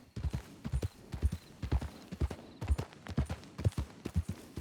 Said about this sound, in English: Oh, that's just wild horses